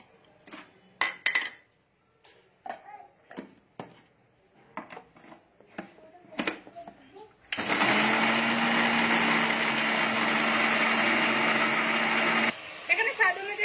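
A countertop grinder whirs loud and steady for about five seconds, grinding roasted cumin and dried chilies into a spice powder for a cauliflower-potato dish, after a stretch of clinks and kitchen handling.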